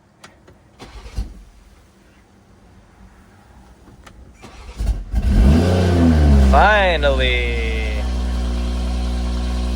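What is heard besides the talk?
BMW M340i engine cold starting on E50 fuel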